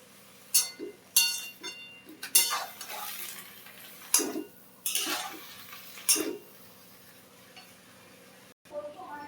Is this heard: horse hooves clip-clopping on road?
no